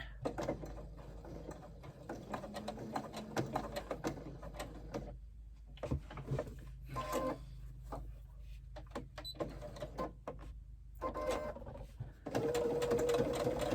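A sewing machine fitted with a zipper foot stitches through bulky fabric at a seam join in short bursts with pauses, fairly quiet and close, ending in a louder steady run.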